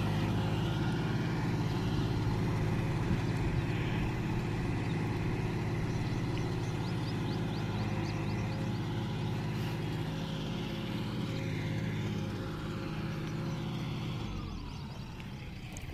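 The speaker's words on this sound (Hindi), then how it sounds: "ये आप देख सकते हो भाई ट्रैक्टर की परफॉर्मेंस।" A modified John Deere 5210 tractor engine runs steadily with a low, constant drone and droning harmonics, close and continuous, easing slightly toward the end.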